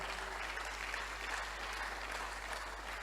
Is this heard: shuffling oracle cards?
no